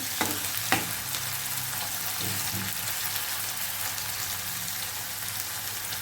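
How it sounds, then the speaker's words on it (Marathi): Curry leaves frying in a pan for a bitter gourd dish, a steady crackling sizzle with a couple of sharp spatters near the start and a few clinks of stirring. "थोडी आपल्याला कढीपत्त्याची पाने टाकून घ्यायची म्हणजे छान हलवून घ्यायचे आपल्याला"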